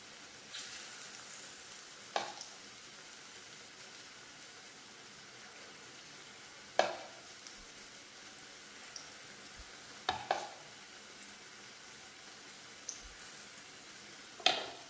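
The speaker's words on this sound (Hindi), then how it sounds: "जी पकौड़े यहाँ फ्राई हो रहे हैं, ये देखें।" Pakoras deep frying in oil over a medium flame, a faint steady sizzle and bubbling, punctuated by a few sharp clinks and stirs of a utensil in the pan.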